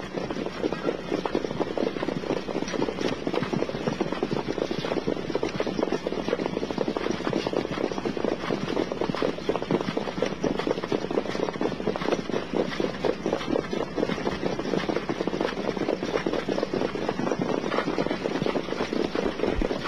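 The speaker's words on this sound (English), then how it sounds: "Starting gate is moving." The mobile starting gate car moving ahead of a trotting field before the eighth harness race, giving a loud, steady engine drone that holds continuously close by.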